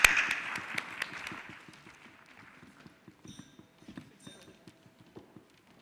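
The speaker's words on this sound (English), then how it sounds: "A round of applause for her as she comes up on stage" An audience at a summit conference applauds as a speaker comes on stage: a loud burst of clapping quickly thins to scattered, uneven claps that taper off.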